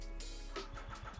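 A lowered 2017 Yamaha FZ-09 motorcycle cold-starts: a brief broadband burst as the starter catches, then a low, steady pulsing idle, close and fairly loud over about a second.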